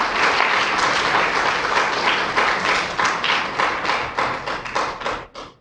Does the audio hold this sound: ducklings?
no